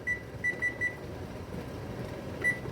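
Kitchen timer beeping during elderberry shot canning, several short high electronic beeps in a quick cluster, then a pause over steady pot and room noise, then one more beep near the end.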